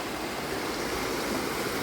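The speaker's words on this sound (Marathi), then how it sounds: "कसली वाहते बघा. पाणी बघा तुम्ही नदीचं." A swollen river rushes past a flooded village, producing a steady, dense roar of flowing water with no breaks.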